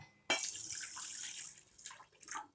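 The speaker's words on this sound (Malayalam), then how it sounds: "ഇനി ഇതിൻ്റെ അകത്തോട്ട് 1 ഗ്ലാസ് വെള്ളം ആഡ് ചെയ്യാം" Water pours in a short, close splashing stream, stops briefly, then runs again for a moment; no voices.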